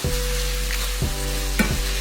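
Softened vegetables for cornbread dressing are stirred in a hot pan, with a steady sizzle and a few soft scraping strokes of the spoon, close and without talk.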